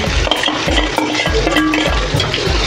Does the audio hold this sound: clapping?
no